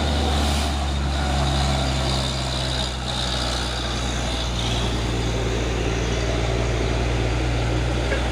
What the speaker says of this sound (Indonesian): Pasukan truk tangki CPO